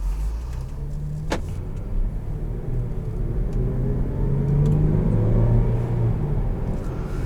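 A 2019 Land Rover Discovery Si6 with a supercharged engine drives along, its steady interior engine hum and road rumble continuous and fairly loud, with a brief faint click early on.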